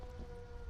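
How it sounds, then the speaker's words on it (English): An air raid siren in the video game Fallout 4 wails as a steady, sustained tone over a low rumbling bed, faint and continuous, with no speech. "it's quite fear-inducing, isn't it? That siren."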